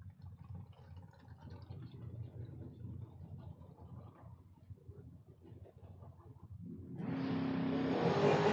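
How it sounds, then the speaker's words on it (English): At a King of the Creek drag racing event, a car engine idles and rumbles in the background before a sudden loud surge of acceleration near the end as cars launch down the strip, one of them a Tesla. "we have a drag race right here"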